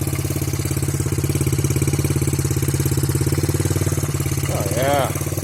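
A Suzuki DR-Z70 dirt bike engine idles steadily after a carburetor install, a close, rapid putter with a throaty pulsing rhythm, still cold; a voice speaks briefly near the end.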